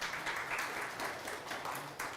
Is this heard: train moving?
no